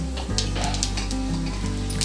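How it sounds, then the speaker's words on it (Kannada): Mustard seeds and cumin dropped into hot oil and ghee for a mushroom pepper dry set off a close, steady sizzle, with faint crackles and pops scattered through the hiss and a low hum underneath. "ಈಗ ಸಾಸಿವೆ ಮತ್ತು ಒಂದು ಸ್ವಲ್ಪ ಜೀರಿಗೆ ಹಾಕೋತಿದ್ದಾರೆ"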